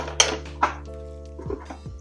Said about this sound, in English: you just put the lid on